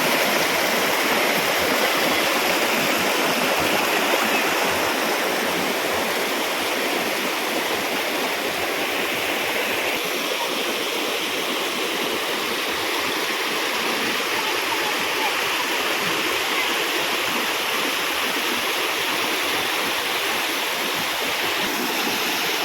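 Vadattupara waterfall in Kothamangalam pours with a dense, continuous roar of falling water, loud and unbroken throughout.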